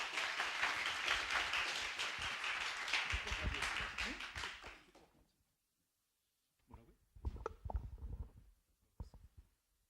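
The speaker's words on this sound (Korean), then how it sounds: "자, 박수로 모시겠습니다." An church worship audience applauds to welcome a missionary speaker, a burst of clapping for several seconds that fades out, followed by a pause and then someone speaking.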